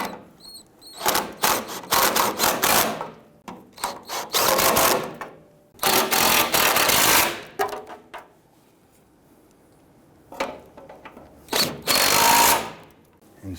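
Power tool whirring in repeated short bursts with pauses between, close and loud, as screws are snugged down on the crankshaft position sensor of a Toyota Tundra 4.7L V8.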